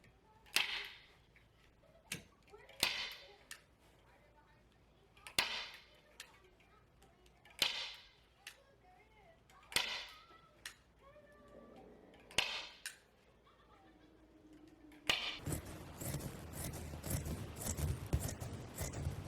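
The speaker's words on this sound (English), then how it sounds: "So then you'll staple that down." A staple gun fires into fabric and batting stretched over a board for a DIY upholstered headboard, with sharp single snaps every couple of seconds in a quiet room. A dense rustling, handling noise follows at the end.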